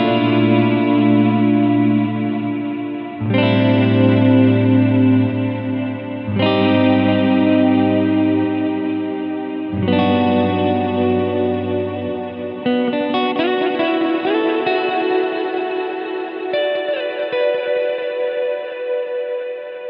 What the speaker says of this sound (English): you can get a nice reverberant sound with 2 delays and the right ratio going on there